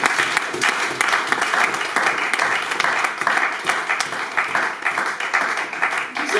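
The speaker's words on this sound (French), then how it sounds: "Est-ce qu'on peut acclamer pour le Seigneur?" A church congregation at a Bible school session bursts into sustained, dense applause and clapping, a loud steady roar of many hands with some crowd noise mixed in.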